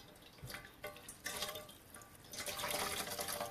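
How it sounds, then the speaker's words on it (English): Hot water is poured into a bowl for washing the face, a faint splashing trickle that swells in bursts and grows fuller toward the end, with no talking. "So I'm going to pour a little bit more hot water into my bowl."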